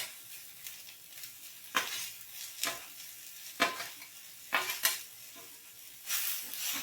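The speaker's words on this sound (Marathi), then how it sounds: "मिश्रण चांगले खरपूस भाजून घेऊया" Grated coconut and chopped tomato roasting in a pan for a Goan prawn curry: a soft constant sizzle broken by repeated sharp spatula scrapes and stirs at an uneven pace.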